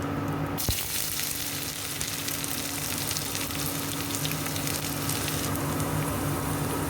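Ginger and garlic dropped into hot oil with curry leaves, a sharp burst of sizzling after an initial clatter that settles into a steady, close frying hiss.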